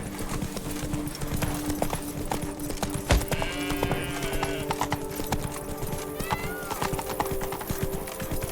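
Horse hooves clip-clop at a steady riding pace in The Witcher 3: Wild Hunt – Blood and Wine, rhythmic and close, with a brief whinny and faint game ambience behind.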